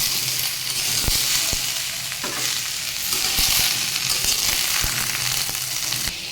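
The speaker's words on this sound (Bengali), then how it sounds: "আর দেখুন এইদিকে কুমড়োটা ভাজি করার জন্য তেলে জিরে ফোড়ন দিয়ে নিয়েছি" Cumin seeds temper in hot oil before pumpkin goes in for a vegetarian dish, producing a loud, continuous sizzle punctuated by sharp spatula clicks and scrapes, close up with no talking.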